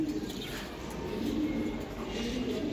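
Palla line pigeons coo softly and repeatedly in a loft, low murmuring calls rolling on under a steady background hum.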